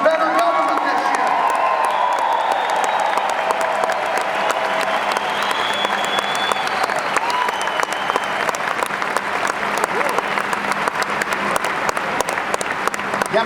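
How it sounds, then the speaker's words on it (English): A political rally crowd at a Des Moines, Iowa roast-and-ride event breaks into sustained, loud applause that stays dense and steady throughout, with some voices mixed into the clapping. "I would ask all the Republicans to give a round of applause to the independents and Democrats that are in this crowd"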